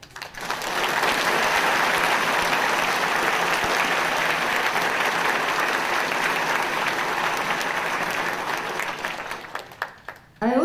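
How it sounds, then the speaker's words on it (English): A banquet audience in Denver applauds Taiwan's president and US supporters with sustained, dense clapping that holds steady for about nine seconds, then thins out to a few scattered claps at the end. "a round of applause for their support."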